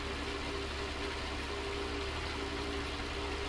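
A cabless farm tractor idles nearby in a steady, unchanging low mechanical drone with a faint tonal hum, heard alone without talk.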